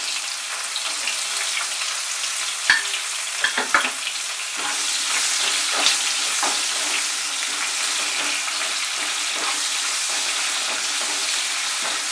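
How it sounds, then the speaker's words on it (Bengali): Chopped onion frying over medium heat in a pan, a steady close sizzle throughout with a few brief clinks of a spoon early on, no talking. "সময় নিয়ে মাঝারি আঁচে ফ্রাই করতে হবে, সময় লাগবে।"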